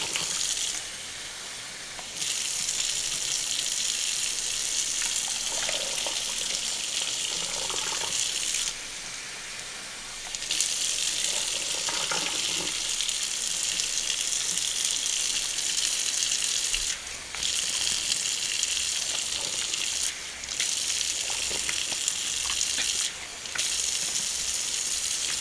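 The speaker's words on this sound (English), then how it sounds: "Let me get these all drained and rinsed." Tap water gushes steadily for a long stretch while drained canned potatoes are rinsed, the hissing flow breaking off and resuming a few times.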